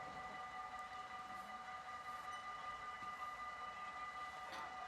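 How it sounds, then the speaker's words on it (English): A train rolls past in Utrecht, Netherlands, a steady distant rumble with a faint sustained tonal hum, heard from a bicycle ride amid constant outdoor background noise. "And again, another train."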